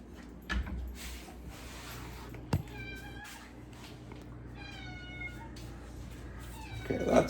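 Close indoor recording of a house cat giving several drawn-out meows, spaced a second or so apart, with a few soft knocks and background hum around them.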